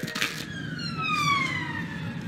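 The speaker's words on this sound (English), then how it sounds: "a police car with sirens can be heard in the background" A police siren wails in the background, its tone sweeping slowly downward as the vehicle passes, under a steady low rumble of street noise.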